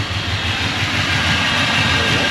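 A nitro RC car engine roars at steady high revs, a loud continuous buzzing drone with no voices.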